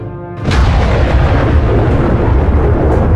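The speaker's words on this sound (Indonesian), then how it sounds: "Petir es biru menyambar samar." A thunder sound effect in an Indonesian audio drama arrives as a sudden loud rumbling crash after a quieter start, then a dense, sustained roar and crackle that fills the rest of the moment without speech.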